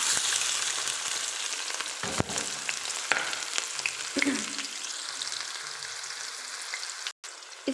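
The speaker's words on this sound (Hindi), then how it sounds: "इस तरह से हमारे प्याज थोड़े से भून जाएं" Onions frying in a pan over medium flame, a continuous crackling sizzle with scattered sharper pops and occasional stirring knocks, fading briefly near the end, no voices.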